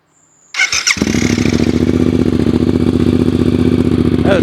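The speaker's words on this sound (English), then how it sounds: "you have a listen to this exhaust" A Suzuki GSX 8R sports motorcycle cranks with a brief whir and catches, its exhaust bursting into a loud, close, throbbing idle that settles into an even rhythm.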